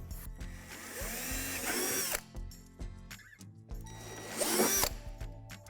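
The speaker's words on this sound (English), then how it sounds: "Now drill out the 2 divots on the back edge of the sink." Two bursts of a power drill whining up to speed and biting into a plastic sink edge, with short pauses and clicks between, close by.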